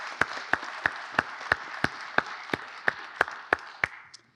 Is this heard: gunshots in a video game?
no